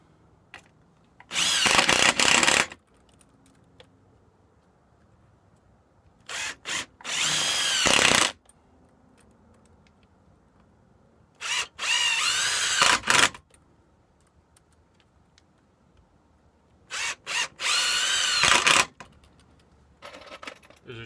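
A power drill drives screws into a 2x4 sistered to an attic truss web member, five separate whirring bursts of one to two seconds each with quiet pauses between, close and clear.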